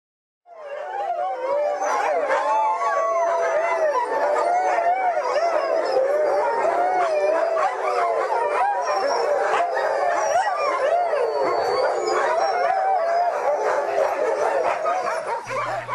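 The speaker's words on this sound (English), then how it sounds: "it's the home of several dog sledding operations" Sled dogs at a dog sledding operation in a valley outside Ushuaia, Tierra del Fuego, howl together in a loud, sustained chorus of overlapping wavering howls and yips, with no talk.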